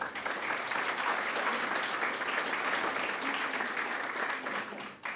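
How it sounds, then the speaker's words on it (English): A town hall meeting audience gives a steady round of applause after news of a large police staffing package. The moderately loud, dense clapping lasts about five seconds and drops off briefly near the end. "Yeah, go ahead and clap for that one."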